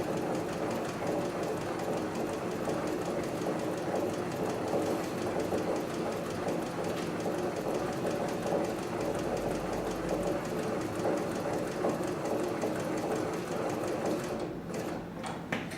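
A Cowboy 6900 arm sewing machine stitches steadily through the work in a continuous, even mechanical whir, running loud and close for the whole stretch with no talking.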